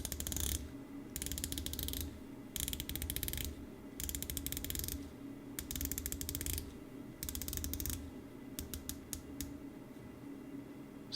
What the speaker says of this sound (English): the really nice ceramic insert, as you can see on this 120 click unidirectional rotating bezel